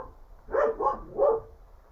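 Dogs bark at a distance, three muffled barks in quick succession, alone in an otherwise quiet setting.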